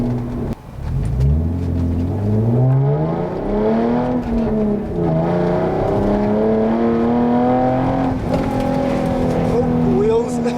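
A Hyundai Genesis 3.8 R-Spec V6 revs and pulls through rising gears from inside the car, with its engine note sweeping upward again and again, loud and close, while people talk over it.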